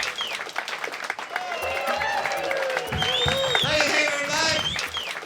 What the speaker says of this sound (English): Please, let's get that round of applause going.